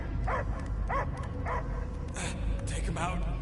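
A dog in Marvel's Guardians of the Galaxy video game barks in repeated short yips, about six bursts over a few seconds, loud and close over a steady game background, with some speech-like sound mixed in.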